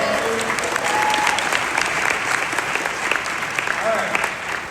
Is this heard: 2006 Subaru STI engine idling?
no